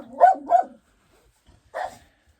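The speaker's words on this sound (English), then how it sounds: "See, I told you I had a little dog." A little dog barks close by: two quick yappy barks, a short pause, then a third bark, with quiet in between.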